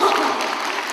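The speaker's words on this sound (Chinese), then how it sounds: "掌声欢迎" Audience at a church Christmas thanksgiving service clapping steadily as a slow-walking group makes its way to the stage; dense, continuous applause throughout.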